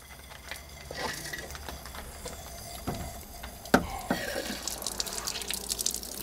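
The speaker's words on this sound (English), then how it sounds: "That this is basically water that's in the pipes." Water drains from household plumbing pipes on a Manabloc system after the pressure is relieved. Irregular close drips and splashes patter and trickle over a faint background hiss, with no talking.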